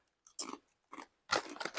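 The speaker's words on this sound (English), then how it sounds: "Listen to the crunch." Plain lavash crackers are bitten and chewed up close, giving three bursts of dry crunching, a short one, a brief pause, then a longer crackly stretch, with no talking.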